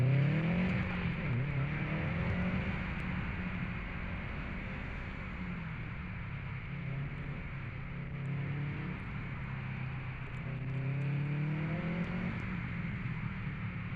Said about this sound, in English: With that in my mind and a freshly updated, more aggressive launch control, I buried my foot to the floor for my second run.